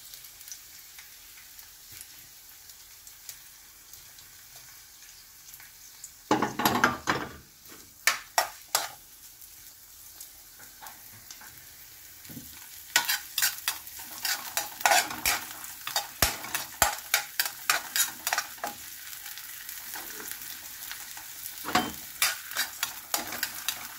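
Hotdog sausages sizzle and fry in a pan, a steady crackle broken by a run of sharp clicks and scrapes of a utensil stirring against the pan, with no voices.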